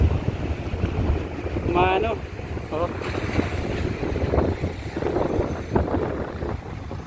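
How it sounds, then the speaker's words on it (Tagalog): Strong wind roars through a nighttime sandstorm carrying dust, a loud continuous buffeting rush against the microphone, with a person speaking briefly over it. "Lakas talaga ng hangin."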